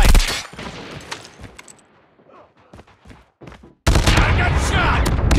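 Gunfire in Call of Duty Mobile: bursts of sharp shots and rapid fusillades, thinning to scattered single reports before a dense, loud volley erupts again near the end.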